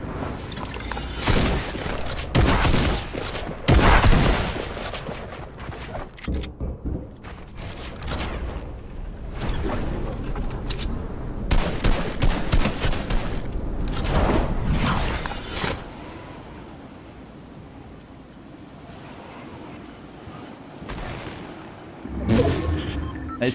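Tactical shotgun blasts in Fortnite's Barebones mode come as loud sharp bursts amid other gunfire and mechanical clatter, with a player speaking at times.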